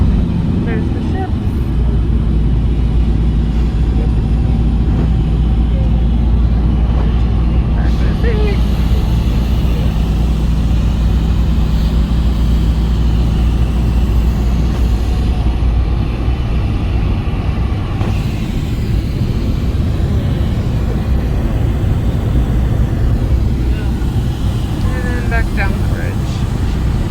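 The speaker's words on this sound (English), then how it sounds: "We're going to be going over the big bridge." Riding inside a taxi van in Curacao on the way over a big bridge: a loud, steady low road and engine rumble fills the ride, with voices talking over it.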